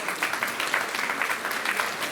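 An audience at a community association's section celebration claps steadily for the volunteers, dense, even applause filling the whole moment without speech.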